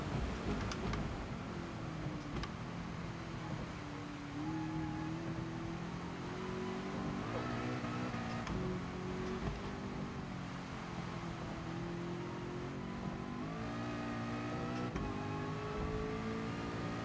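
Ford race car engine in GT Sport rising in pitch as it accelerates, gear changes breaking the climb into several rising sweeps, loud and close and sustained throughout.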